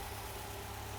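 A sports car engine with an unplugged MAP sensor idles steadily in safe mode, a low, even rumble with a slight vibrating chug, fairly quiet and unbroken.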